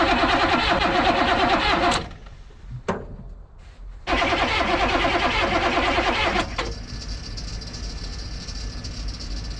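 The starter of a 6.2 diesel Chevrolet squarebody grinds the engine over in long cranking bursts without catching. Each rhythmic churning stretch is close and loud, and short pauses separate the bursts.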